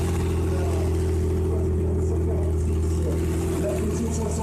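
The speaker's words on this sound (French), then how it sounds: "écoutez-moi le 6 cylindres" Six-cylinder classic car engine at the Monte Carlo historic rally, a steady low idling hum heard close and continuous, with a faint voice underneath.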